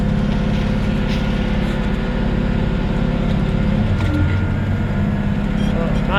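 A tractor runs steadily in gear at roughly six and a half miles per hour, its engine a constant low rumble that fills the whole stretch without pause.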